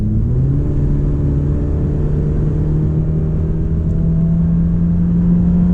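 A 2014 Honda Civic Si's 1.8L engine drones loudly and steadily from inside the cabin, its pitch climbing gradually as it gains speed under constant road rumble.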